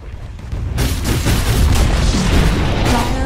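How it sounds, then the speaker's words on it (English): A Dota 2 tower collapses in a heavy booming crash that rolls on as a dense, loud rumble for a few seconds after a short quieter lead-in. "Dire's middle tower has fallen."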